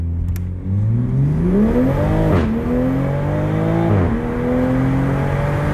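A 2020 Toyota Supra A90 launching hard at a drag strip, its engine note climbing steadily through two quick upshifts, loud and close with no talking.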